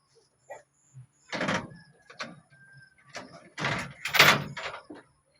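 A home door in a rural provincial house swings open with a few creaks and knocks, fairly close, amid faint background voices and a brief high squeak.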